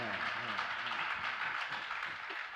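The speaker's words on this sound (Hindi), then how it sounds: "लेकिन ये ताली बाहर वाले बजा रहे हैं कि चौके वाले?" Audience clapping during a Jain religious discourse, a dense, steady patter of many hands filling the hall, with voices murmuring faintly underneath.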